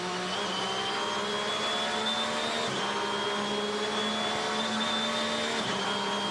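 A Porsche race car engine screaming at around 9,600 rpm during the Rolex 24 at Daytona, a sustained high-pitched wail with steady tones that dip briefly at each gear change over constant trackside roar.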